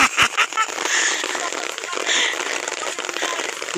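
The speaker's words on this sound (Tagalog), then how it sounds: "Kusog yulan. Yulanan mi guys." Heavy rain falls in a constant dense patter, loud and near, with a few sharper splats at the start.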